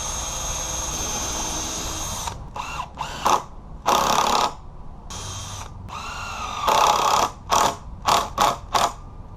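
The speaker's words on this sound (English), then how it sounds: "Then we're going to pre-drill if you're using screws." A power drill whirs steadily at first, then runs in several short, loud bursts with brief pauses between them, close by, pre-drilling wood for screws.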